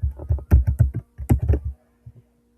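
Quick typing on a computer keyboard while entering network configuration commands, two short runs of close, crisp keystrokes separated by a brief pause, with a couple of light taps at the end.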